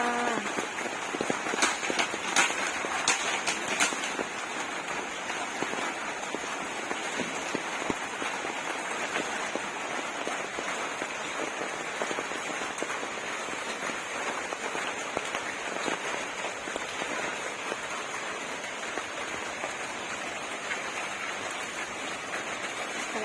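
Heavy rain falls steadily around a house, a dense, even hiss that never lets up, with a few sharper drips and taps near the start.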